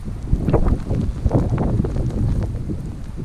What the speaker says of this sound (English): the wind picked up and the snow is really drifting around there now